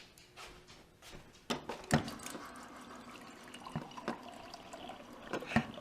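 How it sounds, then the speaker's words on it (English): Water running into a mug, a steady trickling pour with a few sharper splashes and clinks, close and moderately quiet, with no talk over it. "This is how I fill up my mug."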